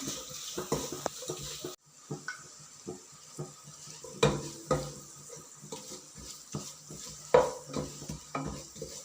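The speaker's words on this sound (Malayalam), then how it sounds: "അത് നമ്മൾ ഇതിനകത്തോട്ടിട്ട് വഴറ്റുവാണ്." Hand-torn dates sautéed in a pan for lemon pickle, heard as quiet spoon-stirring clinks and scrapes against the pan over a faint sizzle, with irregular knocks throughout.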